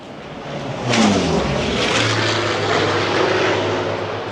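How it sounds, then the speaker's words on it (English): Low-flying jet aircraft roar passes overhead in Australia, a loud rushing swell that rises sharply and then stays heavy and sustained. "look at that jet. Yeah, very low and smoky and noisy"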